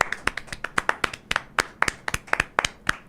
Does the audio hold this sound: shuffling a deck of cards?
no